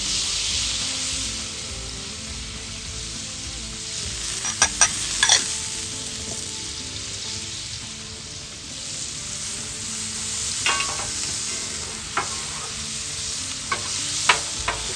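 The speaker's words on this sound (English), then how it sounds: "We're going to saute it really well." Butter sizzling as Thanksgiving stuffing is sautéed on a Big Green Egg grill, a constant close frying hiss with occasional scraping stirs and utensil taps against the pan.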